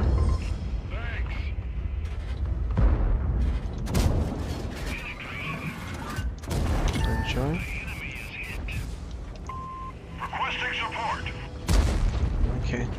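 Rapid gunfire and booming blasts in a first-person shooter video game, a defend-at-all-costs battle with a Vz.51 weapon, sharp shots and louder explosions going off repeatedly over about thirteen seconds amid continuous game noise.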